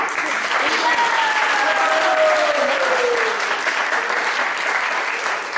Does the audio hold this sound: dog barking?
no